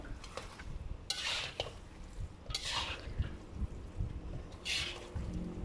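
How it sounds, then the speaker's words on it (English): Fried rice noodles with fried tofu being stirred in a pan for kuey teow goreng, with a few scraping, clattering bursts of the utensil against the pan over a steady low background. "And finally, I'm going to add in the fried tofu. And we will give this a good stir."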